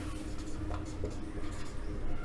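A pen scratches steadily across paper while working through a Class 10 quadratic equation problem, soft and close, under a busy background hum.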